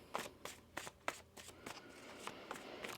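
Tarot cards being shuffled by hand, a run of quick riffling bursts repeating at a steady pace, close and fairly quiet with no talking.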